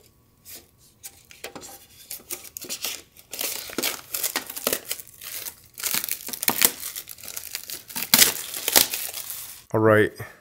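Duelist Pack Collection Tin being opened by hand, close crinkling and tearing of foil and plastic packaging in irregular bursts, with a brief clink near the end.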